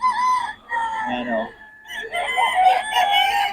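Roosters crow and chickens cluck on a rain-soaked gamefowl farm, several harmonic crows overlapping close by with brief pauses between calls.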